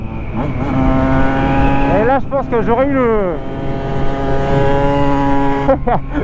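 The two-stroke engine of a 2016 Husqvarna 125 TE motorcycle revs up and down in buzzy, rising and falling whines, loud and close, while someone talks over it.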